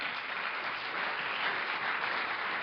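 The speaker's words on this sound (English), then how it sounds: "I always love the applause for that." Audience applause at a live comedy show, a steady wash of clapping at moderate level with no pauses, holding evenly throughout.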